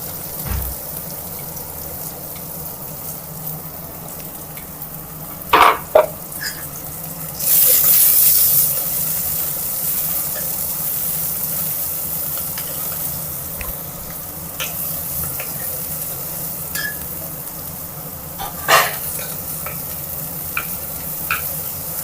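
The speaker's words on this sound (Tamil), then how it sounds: "அப்புறம் பார்த்திங்கன்னா கட் பண்ண வெங்காயம் போட்டுக்கலாம்" Chopped onions fry in a pan with cinnamon, cloves and spices for a chicken kuzhambu, giving a steady sizzle with occasional stirring scrapes and a brief louder hiss, heard up close with no talking.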